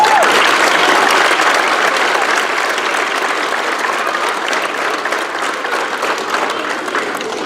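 Sustained applause from a large audience at a youth football league awards ceremony, loud dense clapping that opens strongest and eases slightly while continuing steadily throughout.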